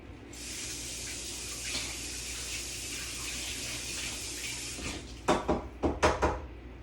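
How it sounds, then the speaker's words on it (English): A kitchen item rinsed under a running tap, a steady close hiss of flowing water for several seconds, ending in a few sharp splashes and clatters as the item is handled, with no talk. "I'm gonna go rinse this again."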